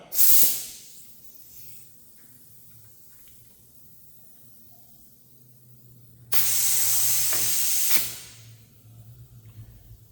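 Air ride suspension airbags on the front of a C50 truck filling through a valve: a sharp hiss burst at the start, a long quiet low hum, then a loud steady rush of air for about two seconds before stopping.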